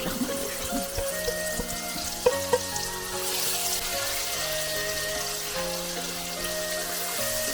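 Masala fries in a pan for a Kathiawari eggplant curry, a constant close sizzle with a couple of sharp clinks of a utensil partway through and no speech.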